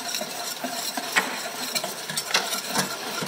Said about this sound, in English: now that our butter is melted, we will stir in our flour